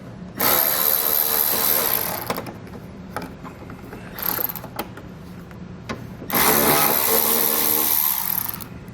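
Ratchet with an 8mm socket working 8mm bolts on the fascia of a 2014 BMW X3, heard as two long, loud, close runs of rapid clicking separated by a short burst, with no talk.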